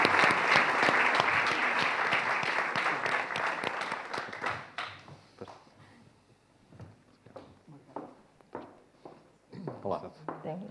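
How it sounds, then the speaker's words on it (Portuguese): Sustained audience applause greets a guest called to the stage at a Portuguese publishing event, dense and loud for several seconds before fading into scattered claps, shuffling and movement. "Uma salva de palmas, por favor"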